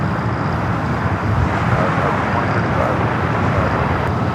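A jet airliner taking off from the south side at Los Angeles LAX produces a loud, continuous broadband engine roar that holds steady and dense throughout, with no pauses or voices.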